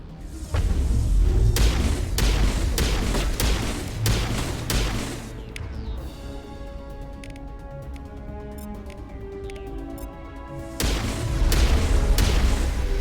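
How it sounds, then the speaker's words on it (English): Mass Effect Legendary Edition combat with biotic bombardment: heavy booming impacts and rapid volleys at the start, a quieter humming lull in the middle, then another loud barrage of blasts at the end. "We're finna get bombarded with biotics."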